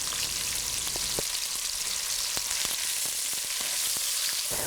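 Sliced onions sauté with salt in a hot pan for egg biryani, giving a continuous close sizzle broken by scattered sharp crackles and pops, with no voices.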